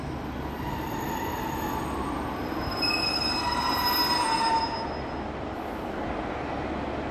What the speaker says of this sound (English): 10:34 Northern service from Manchester Victoria to Clitheroe.